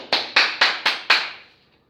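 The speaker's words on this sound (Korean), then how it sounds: "박수를 치면 좋습니다. 박수 한번." One person claps five times in an even rhythm, close and sharp, each clap ringing briefly in a room before fading into quiet.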